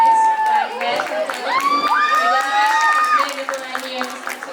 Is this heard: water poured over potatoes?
no